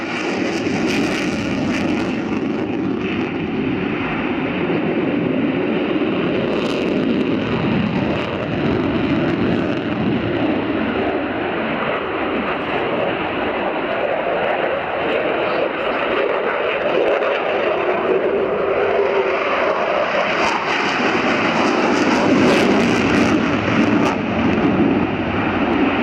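A Sukhoi Su-27 P1M jet fighter from 1991 flies at the RIAT 2017 airshow, giving off a steady, loud engine roar that is broadband and continuous, with rushing wind noise throughout and no talk.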